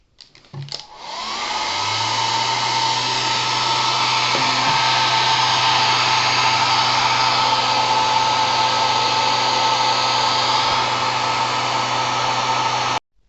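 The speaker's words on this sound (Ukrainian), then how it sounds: "підключив фен і дуйку. Тепловентилятор." A hair dryer and a fan heater run together off a 12V-to-220V inverter after a few brief clicks, making a loud, steady whooshing hum that holds unchanged to the end.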